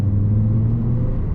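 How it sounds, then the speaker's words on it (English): Light, steady rumble from the five-cylinder engine of a mid-2000s Fiat Michael Schumacher limited edition car, a continuous low drone heard close up with no talking. "the rumble, the light rumble of the 5-cylinder"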